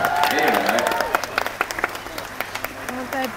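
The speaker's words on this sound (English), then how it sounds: "what about a round of applause?" Applause from a theme park show audience at Dreamworld, a short burst of scattered claps with crowd noise, mixed with voices and animal-show sounds.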